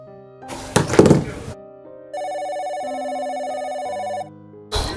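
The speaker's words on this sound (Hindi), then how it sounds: "हे भगवान, अब किसका फ़ोन आ गया?" A telephone rings indoors in a home: an electronic ringtone plays as a steady, bright, repeating tone for about two seconds, framed by dull thumps and handling noise before and after.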